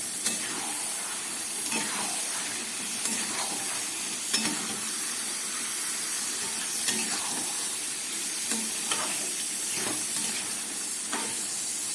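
Potatoes and chicken with yogurt sauté in a hot pan, giving a steady sizzling hiss throughout with occasional scraping stir strokes from a spatula.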